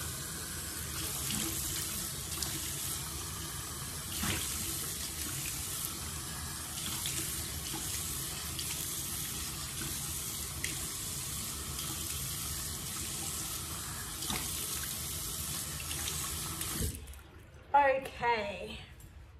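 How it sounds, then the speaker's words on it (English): Water from a tap runs steadily into a sink for a long stretch while a skin product is rinsed off, then cuts off abruptly near the end, followed by someone talking. "Give me 2 seconds while I rinse this off."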